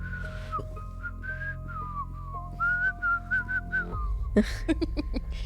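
A person produces a wavering, high whistle in short phrases, like someone imitating a blown whistle, against a low background hum, with a burst of clattering noise near the end.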